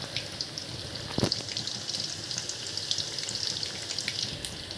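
Steady crackling sizzle of pitha cakes frying in hot oil, close and continuous, with one sharp clink partway through.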